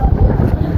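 Strong storm wind buffets the microphone outdoors during a typhoon, a loud continuous low rumbling roar with gusty pulses throughout.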